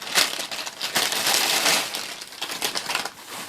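Handfuls of Dollar Tree decorative paper shred crinkled and stuffed into a small gift basket, close, dry rustling crunches in uneven bursts.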